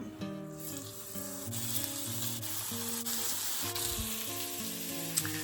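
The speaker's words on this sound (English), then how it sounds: "With that oil nice and hot and these seasoned, I'm gonna go ahead and put these seasoned side down." Seasoned beef riblets laid seasoned side down in hot oil set up a steady, close sizzle and crackle that runs unbroken, with a few sharper pops and a faint tonal ringing underneath.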